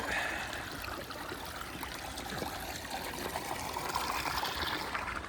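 A small stream flows on a woodland park hike in West Virginia, a steady soft rush and trickle of water that carries on evenly throughout at a moderate distance.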